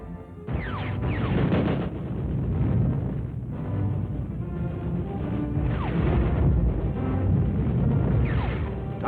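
Big artillery guns fire during a battle in Korea, a continuous barrage of heavy booms and crashes layered into a loud, rumbling wall of sound lasting throughout.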